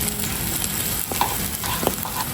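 Tuna fish omelette frying in a pan, a close, steady sizzle with a few scraping stirs of a utensil breaking through.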